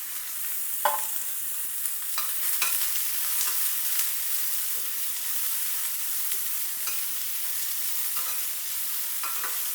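Onion, carrot and coriander stirred in hot oil with crackling cumin seeds, a steady soft sizzle broken by occasional scraping stirs and light clinks, close by and without talk.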